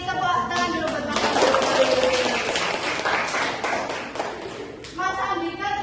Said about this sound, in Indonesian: Tepuk tangan dulu buat Mas